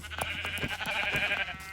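Sheep bleats from a realistic Minecraft survival game, several short nasal calls spaced across the moment over faint game ambience.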